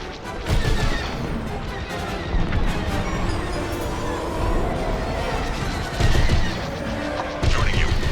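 Starfighter weapons fire and explosions in Star Wars: Squadrons, with rapid blaster bursts, loud crashing impacts and booms recurring throughout a dense, chaotic space battle.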